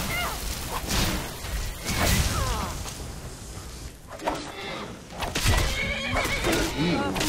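A horse in the Skyrim video game whinnies loudly several times, shrill neighs mixed with hoof clops and swishing movement, while a person talks over parts of it.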